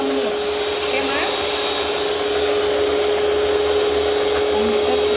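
An electric mixer whirs steadily while mixing cinnamon cake batter, giving a constant, fairly loud motor hum with a high whine, with no clear breaks over its length.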